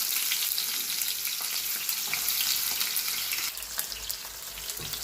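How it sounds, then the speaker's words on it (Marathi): Chopped onion sizzling steadily in hot oil with cumin seeds in a wide pan, a continuous close crackle with occasional stirring scrapes and no talking. "तर हा कांदा आपण थोडासा भाजू देऊया"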